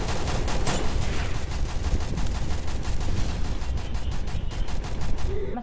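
Rapid bursts of Counter-Strike gunfire crackle continuously, loud and dense, with faint voices mixed in amid the game action.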